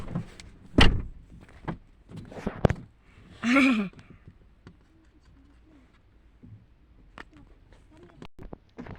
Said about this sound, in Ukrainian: Зараз закриємо двері.